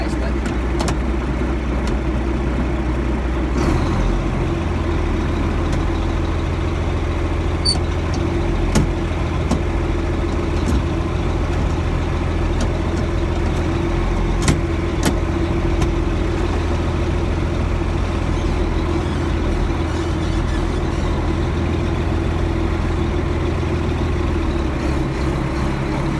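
A tractor engine runs steadily at close range, a low continuous drone holding throughout with a brief shift in tone near the start, while someone talks over it.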